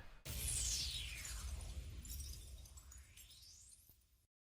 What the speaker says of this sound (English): you got this glass break sound